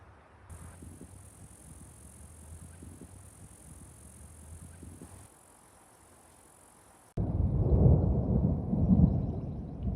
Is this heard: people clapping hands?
no